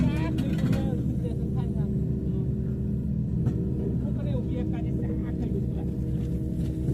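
A backhoe excavator's diesel engine runs steadily at a general work site in Korea, a continuous low rumble heard close up while people talk over it.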